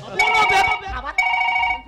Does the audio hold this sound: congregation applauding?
no